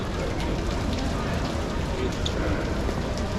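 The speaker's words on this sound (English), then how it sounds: "we really haven't seen any rain until just now" Rain falling steadily in Venice, Italy, an even, dense hiss of drops that stays constant from start to finish with no other sounds on top.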